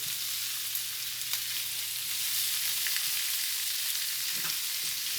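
Potatoes sizzle steadily in a skillet as they are tossed, with a continuous close frying hiss and a few faint scrapes and stirring knocks, no voices.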